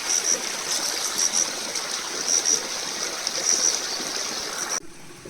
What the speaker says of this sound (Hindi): देखिए बावड़ी का पानी नीचे कहीं से नहीं आ रहा है, यही नीचे ज़मीन से निकल रहा है।